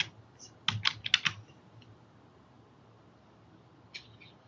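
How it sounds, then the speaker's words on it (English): Computer keyboard typing during a presentation on passwords, a quick cluster of close key clicks, then quiet and a couple of faint taps near the end. "Whose keyboard is not cooperating?"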